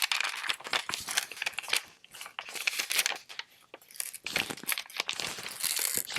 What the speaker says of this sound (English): And very carefully put it back in the Mylar bag.